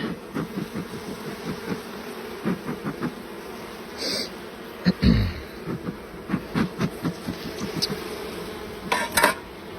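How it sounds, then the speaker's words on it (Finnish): Forager honeybees flying around an empty hive at a frameless apiary in Finland, a close buzzing drone that swells and fades as individual bees pass near, with a few light clicks and knocks mixed in. "tossa on nyt toi tyhjä pesä, mihinkä lentää kenttämehiläiset"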